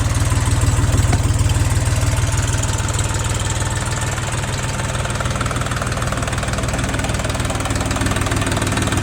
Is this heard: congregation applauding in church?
no